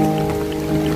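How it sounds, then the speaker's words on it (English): Steady, loud rainfall in Abakaliki, a dense continuous hiss of drops pattering on surfaces close by, with an even, unbroken wash and no voices. "Lovely rainfall."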